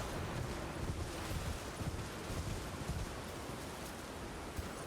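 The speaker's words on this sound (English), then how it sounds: "I feel like I hear wind, but I don't see wind." Wind in the Elden Ring video game, a constant broadband rush with gusty low rumbles, heard on its own with no talking.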